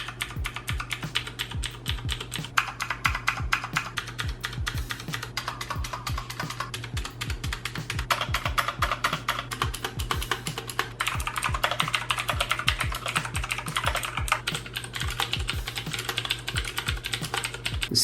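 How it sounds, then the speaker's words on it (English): Typing on a mechanical keyboard with clicky Cherry MX Blue switches, a rapid stream of close, crisp clicks and clacks in uneven bursts, with occasional heavier presses on larger keys like Shift and Enter. "The click sounds similar, but not identical, especially on the bigger keys like Shift and Enter."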